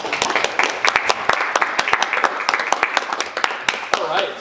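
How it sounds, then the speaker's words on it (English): Audience applause at the close of a design thinking talk in a speaker series, dense steady clapping from a crowd lasting throughout, fairly close and even in loudness. "Can we have another round of applause for Bryan and team?"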